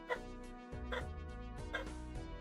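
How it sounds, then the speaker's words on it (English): Elderly dogs bark downstairs in a few quick, muffled bursts, close together, with no one talking over them. "Elderly dogs downstairs barking."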